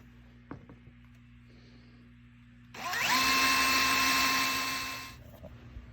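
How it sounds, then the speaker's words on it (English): A power drill running a hole saw through material while setting up a deep water culture hydroponics system; after a few faint clicks, a single steady whining drill run lasts about two seconds and then winds down, close and loud. "I stopped my video so I could actually drill these holes"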